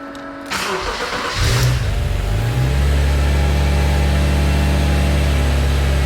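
A twin turbo Subaru Liberty engine cranks, catches and fires up, then settles into a deep, steady idle with a slight rev, loud and close with no talking.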